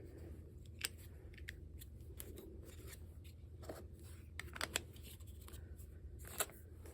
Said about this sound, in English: I just went around and I cut out the whole thing.